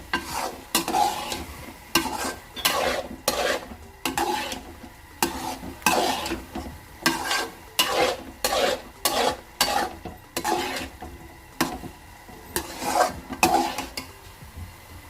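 A spoon stirring carrot halwa mixed with chopped almonds and coconut powder in a pan, rhythmic scraping strokes repeating about every second over a faint sizzle, close and unaccompanied by speech.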